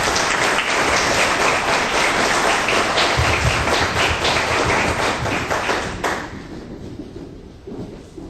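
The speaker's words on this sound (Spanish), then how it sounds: "Un aplauso," An audience at a university lecture event gives loud, sustained applause of dense clapping. It fades toward the end, leaving a quieter room.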